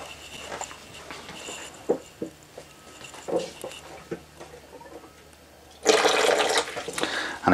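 Hot side of a basin draining through a Floe Induratec 868 drainage system, scattered small clicks and knocks followed by a sudden loud rushing gurgle of water running away for the last couple of seconds.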